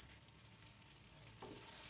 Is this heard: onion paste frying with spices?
yes